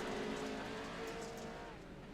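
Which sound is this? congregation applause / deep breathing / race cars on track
race cars on track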